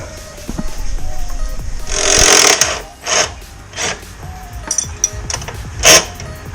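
A tool works the lower bolt of an electric scooter's front shock, with close metallic clicks, scrapes and a few sharp clanks spread unevenly over a quiet background.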